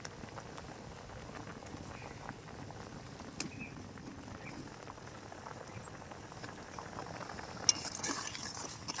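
Shahi paneer gravy made with coconut milk simmers at a low boil, soft bubbling and faint patter with an occasional clink of a utensil, quiet and close throughout.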